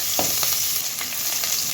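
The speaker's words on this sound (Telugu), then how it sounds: "ఇప్పుడు ఇందులో అల్లం వెల్లుల్లి కూడా వేసి వేయించుకుందాం" Ginger sizzles steadily in hot oil in a pan, a short, loud, continuous frying hiss broken by a few light stirring scrapes, with no talking.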